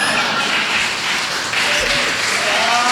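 A live audience at a Hindi comedy poetry show applauds, a dense, loud wash of clapping that holds steady for the whole stretch.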